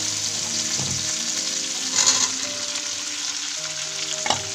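Soya chunks and potatoes fry in a pan while being stirred, a steady close sizzle broken by a few scraping stirs and soft clinks, with no speech.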